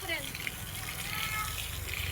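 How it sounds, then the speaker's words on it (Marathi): Borewell water gushes out in a steady, loud, hissing rush at an outdoor family gathering at sunset, with faint children's voices mixed in. "हे बघा आता मस्त बोरला पाणी आलेलं"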